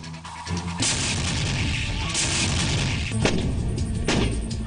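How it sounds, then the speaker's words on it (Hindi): Heavy, continuous rumbling blasts from an M777 howitzer firing at the Pokhran field firing range, with a sharp report cutting through a loud, sustained roar of noise. "अमेरिका से आई होवित्जर M777 तोप का पोखरण फील्ड फायरिंग रेंज में टेस्ट किया जा रहा है"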